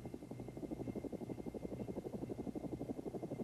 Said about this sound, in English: As the helicopter begins to hover over the cargo release site